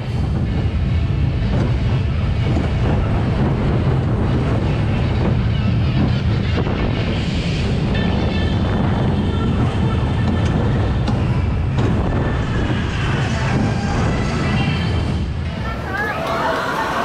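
Medusa roller coaster ride at Six Flags Great Adventure, heard as loud, constant wind rush and rumbling track roar from onboard, with riders' voices mixed into the noise throughout.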